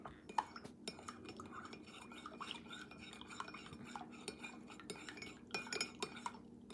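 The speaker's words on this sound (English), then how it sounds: "Stir, stir, stir." A metal teaspoon stirs honey into a mug of Yorkshire tea, clinking repeatedly against the cup in quick, irregular taps, close and fairly quiet.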